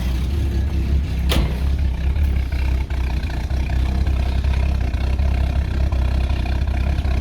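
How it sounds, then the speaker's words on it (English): The engine of a Ford XG utility, fitted with a replacement catalytic converter, idles steadily with a low rumble and then gives a brief quick rev. It sounds close and fairly quiet, with no talk. "Let's give it a bit of a rev."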